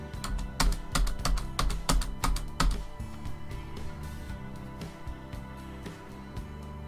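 Repeated presses of the Enter key on a computer keyboard, a quick run of about a dozen sharp clacks in the first three seconds, followed by a few scattered quieter taps.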